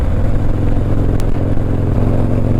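A 2018 Harley-Davidson Street Glide cruising at highway speed, about 70 mph near 3,100 to 3,200 RPM: a loud, steady, close engine drone with a deep throbbing exhaust rumble throughout.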